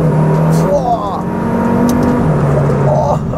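A KTM X-Bow GT-XR hypercar accelerates hard, its engine note rising and loud throughout, with someone talking over it.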